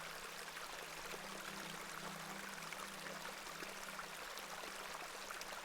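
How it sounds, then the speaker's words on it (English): A small stream, a beck, in the video game The Excavation of Hob's Barrow, burbles and trickles in a soft, unbroken flow, quiet and steady with no voices over it. "This is a lovely little beck."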